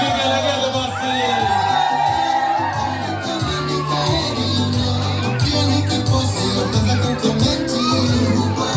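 A crowd at a graduation ceremony ululates, whoops and cheers loudly and without a break, with music running underneath the dense wall of voices.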